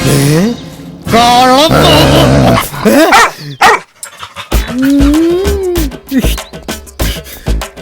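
A dog close by makes loud, drawn-out growling and whining sounds, then quick breathy bursts like panting and short yips.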